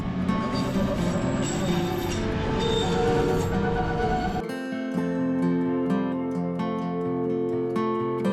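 Mountain train riding back down from the heights near Zermatt, a steady rolling rumble of wheels and carriage that drops abruptly about halfway into a quieter, lighter rattle with tonal hum.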